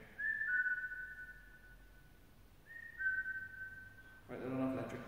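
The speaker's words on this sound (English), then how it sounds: "I'm actually going to breathe as I whistle." A person whistles two long sustained notes, each sliding slightly in pitch, with breathy gaps between them, close and fairly quiet, followed by a burst of breath noise at the end.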